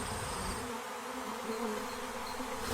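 Honeybees fan their wings at the hive entrance, making a dense, steady, continuous buzz close by with no talking over it.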